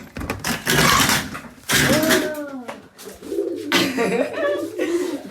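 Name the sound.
pigeon cooing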